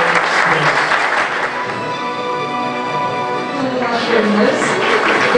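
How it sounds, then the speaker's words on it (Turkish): An audience at a hospital's 20th-anniversary seniority award ceremony claps steadily in a sustained, fairly close round of applause, with tonal sounds running underneath. "20. yıl anısına, 20 yıllık kariyerleri doğrultusunda Zeytinburnu Kaymakamımız Sayın Mehmet Makas Beyefendi'yi alkışlarımızla"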